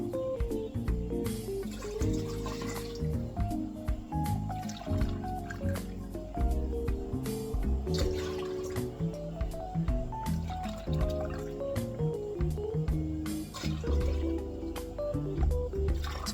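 Water poured cup by cup for cooking rice, with dripping, trickling and filling sounds in short bursts, fairly faint and close, with little or no talk.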